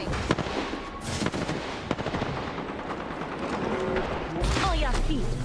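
Rapid automatic gunfire from Apex Legends crackles in bursts, loud and close, with sharp shots and brief game voice callouts mixed in.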